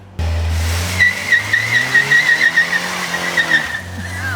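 A car with no traction control does a burnout, its tires squealing in a long wavering high-pitched screech over a loud, steady engine roar that rises and falls, then ends with the engine idling.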